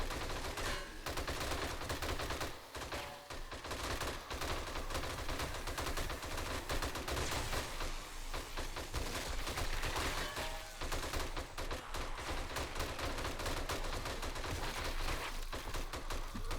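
Dense, continuous automatic gunfire with AP rounds during a horde night in the video game 7 Days to Die, rapid shots hammering without pause for the whole stretch, loud and close.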